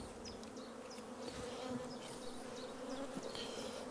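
Honey bees hum in a dense, continuous drone at an open hive during an inspection, a close, steady buzz with individual bees whirring past.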